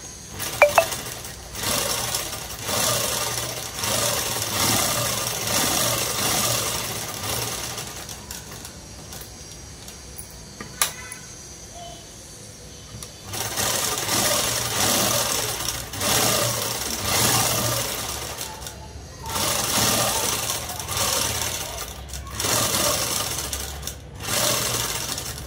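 Sewing machine stitching a long frock dress, rapid mechanical chatter running in bursts with a quieter pause partway through, close and steady.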